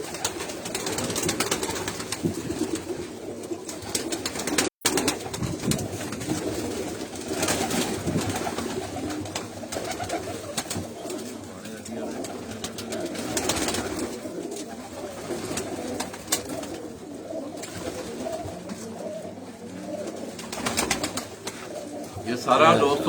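Breeder pigeons at a breeding setup coo steadily, with soft repeated calls running throughout, and voices talk intermittently in the background.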